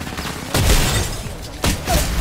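Gunfire in a shooter video game, two heavy broadband bursts about a second apart, loud and close, standing alone over a busy game-sound background.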